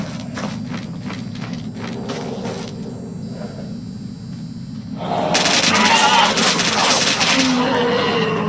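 Sustained gunfire from a full magazine being emptied in the game Anomaly, playing as a recon scout. Dense shots run throughout and grow louder and brighter partway through, mixed with other game noises.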